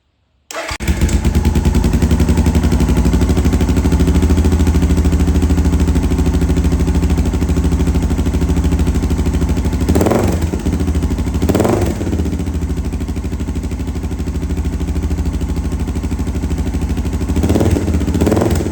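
A Suzuki DR650 motorcycle engine runs loudly and steadily close by after starting, its exhaust giving a rapid, harsh, machine-gun-like thumping throughout, with a few brief throttle blips near the end.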